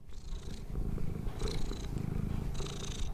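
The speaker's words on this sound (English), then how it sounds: "slow rhythmic purring" A domestic cat purrs close up in a slow, rhythmic cycle, with three breathy inhale-exhale swells over a low continuous rumble, quiet and heard alone.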